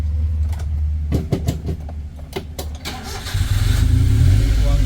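A car engine with a sticking clutch cranking with a few sharp mechanical clicks, then catching and settling into a loud, steady rumbling idle that swells slightly, heard up close.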